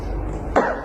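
A single short, rough cough from a person bursts out abruptly over low background rumble, close and brief, with no talking.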